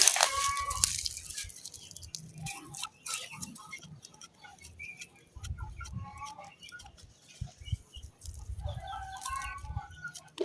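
Chickens on a poultry farm cluck and cackle in scattered bursts, a few calls near and others farther off, with quieter stretches between them and no talk.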